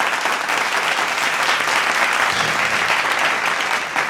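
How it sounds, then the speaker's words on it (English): Audience applause fills the whole clip, a loud, dense and steady clatter of many hands clapping together for about four seconds with no pauses. "Yeah, we will clap for them."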